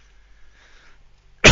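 A single cough bursts out suddenly and loudly, close to the microphone, after a moment of near silence, and it is cut off abruptly.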